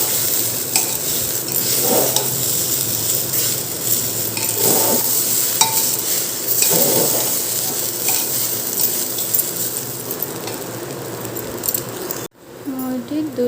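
Turmeric and salt get stirred into sweet khichdi in a pan, with continuous scraping and clattering of a spoon against the pan over a light sizzle, loud and close, ending in a sudden cut.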